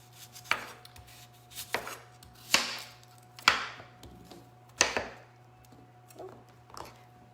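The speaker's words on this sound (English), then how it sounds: "let's go ahead and chop these up. All right, we're just gonna cube them." Knife chopping salad ingredients into bite-size cubes on a cutting board for a steak salad, giving five or six sharp, clear board knocks at uneven intervals with a steady background hum.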